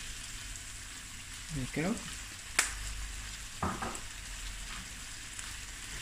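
Dark soy sauce hits a hot frying pan with a brief sizzle and stirring clatter, a low steady frying hiss running beneath, while a person speaks a few words nearby.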